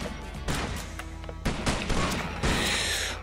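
Gunfire in a first-person shooter game: several loud bursts of rapid shots in quick clusters, with short gaps between volleys and a sharp crack at the end.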